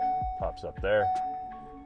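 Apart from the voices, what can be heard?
beeping in Ford Transit van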